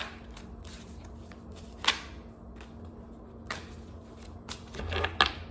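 Tarot cards being shuffled up close, soft riffling rustles with a few sharper flicks and slaps, quiet overall against a low steady hum, no talking.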